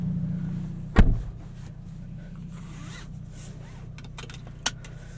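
Getting into a Hyundai Elantra N: one sharp, loud car-door thump near the start, then a quiet cabin hum and a soft latch-like click near the end.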